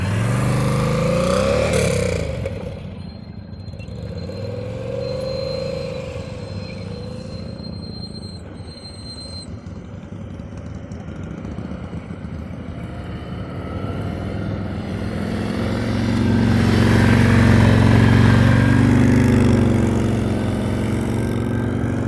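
A motorcycle engine at low throttle during advanced slow-speed riding practice in Georgia, a steady, fairly close rumble that swells and eases gently as the rider modulates the throttle, with no talk.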